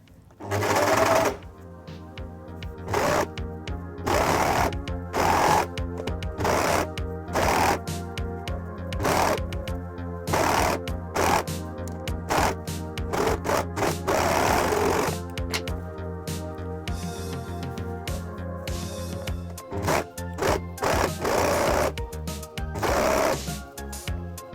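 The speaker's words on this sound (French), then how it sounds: "On vient surfiler tout le tour." Serger overlocking the bottom hem edge of jersey trousers, running in repeated bursts of fast mechanical stitching with short pauses between, close and steady, no talk.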